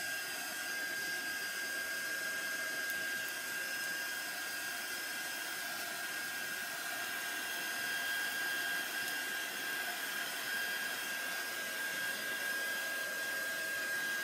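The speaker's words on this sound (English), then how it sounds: "I'm sorry for all the heat drying." A heat tool blows steadily to dry distress ink on paper, a loud continuous roaring whine with a constant high tone that runs unbroken throughout, with no talk.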